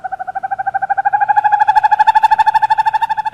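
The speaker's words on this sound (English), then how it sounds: "the screech of a barn owl in the dead of night" A barn owl calling at night, a loud, close, rapidly pulsing tonal call that runs continuously and steadily, each beat blending into a harsh trill.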